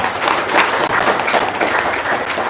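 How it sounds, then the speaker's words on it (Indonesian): Audience applause at a business testimony seminar, a steady wash of many hands clapping that fills the short moment at even loudness, with no clear voices over it. "Wow, tepuk tangan dong."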